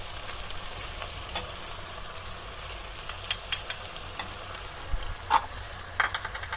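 Beef boti roasting in a pan over a high flame gives a soft, continuous frying hiss, with scattered spatters and a few sharper clicks of a spoon toward the end.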